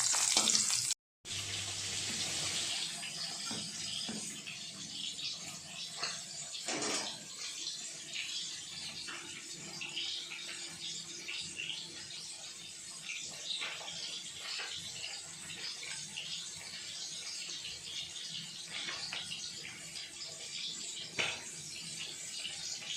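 Tap water runs into a sink while a burnt wok is scrubbed, a steady hiss and splash with scrubbing scrapes over it, fairly quiet and continuous, after a brief dropout near the start.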